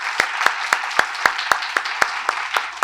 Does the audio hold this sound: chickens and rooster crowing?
no